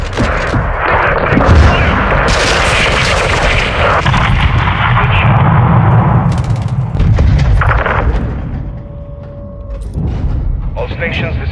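Heavy gunfire from a Hornet attack aircraft in Call of Duty: Modern Warfare 2, dense overlapping shots and booming impacts with mechanical rumble throughout, loud and close, easing near the end with a few scattered hits and faint voices mixed in.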